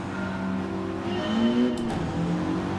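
A Mitsubishi race car with a five-speed gearbox howls at steady high revs in Gran Turismo 7, its engine note rising and dipping slightly through a gear change, loud and continuous throughout.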